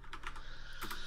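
Quick bursts of keystrokes clatter on a computer keyboard, a few close taps in rapid succession with a short pause between clusters, over a low steady hum.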